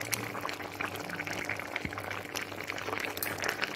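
Vegetables for shukto simmering in a pot, a soft continuous bubbling and hiss at low volume, with a faint clink partway through.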